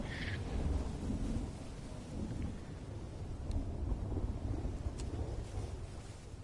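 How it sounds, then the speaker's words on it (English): Rolling thunder rumbles through a stormy scene in the Fishing Planet video game on an ocean map, a loud, sustained low roar with rain hiss running steadily for several seconds. "Did you hear that thunder, bro?"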